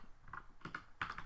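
Keystrokes on a computer keyboard while entering a search on the PyPI website, a handful of crisp, close clicks in small irregular bursts with no talking.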